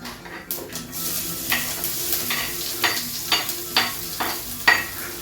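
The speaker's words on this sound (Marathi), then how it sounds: "पटकन भाजी तरी फोडणी घालून घ्यावी म्हणलं" Steady sizzling of a spice tempering and okra frying in a hot pan, with occasional stirring clinks and scrapes; no voices.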